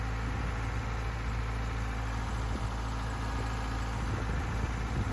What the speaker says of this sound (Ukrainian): двигун просто шепче, аж хочеться слухати роботу такого двигуна